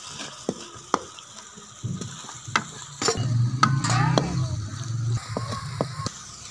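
Potatoes being stirred with red chili and turmeric in a pan for shorby-style aloo, with irregular scraping and clinking knocks of a spoon against the pan over a soft background sizzle.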